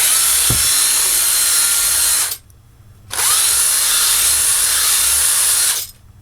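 Power drill drilling out screws on a fan heater, two loud, sustained high-pitched whirring bursts of a few seconds each, separated by a short pause, close up.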